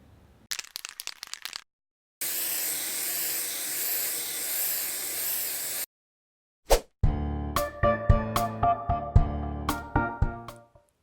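Chaos Black spray paint hisses from an aerosol can in a long steady burst while undercoating miniature models, with a few rattling clicks before it and sharp clinks and taps afterward.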